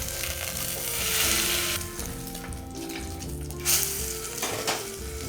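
Pork for chashu sizzles steadily in a well-heated pan, a dense broadband hiss with a few louder crackling bursts and scraping stirs, close and continuous throughout with no voices.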